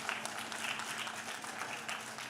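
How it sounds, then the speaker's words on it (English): Applause from a conference audience for the core team at a tech event, a steady faint wash of many hands clapping from a distance, without distinct individual claps. "I encourage everyone give a round of applause to the core team."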